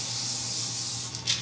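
Cooking spray hisses onto parchment paper in one steady close burst, followed by a couple of short quick puffs at the end.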